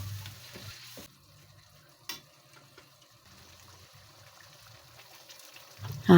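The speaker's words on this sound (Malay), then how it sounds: "Masukkan rempah daging tadi tu dengan cili kisar. Sedikit air ya, untuk masakkan rempah tu." Ground meat spices and blended chili paste with a splash of water cooking in a pot for beef bone curry noodles, a soft simmering sizzle with faint bubbling and a few stirring knocks, rising to a louder clatter at the end.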